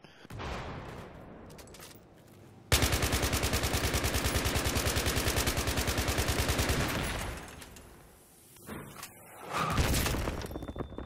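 Rapid, loud automatic gunfire in a video game, a sustained burst of evenly spaced shots that runs for about five seconds, then fades before more shots come in near the end.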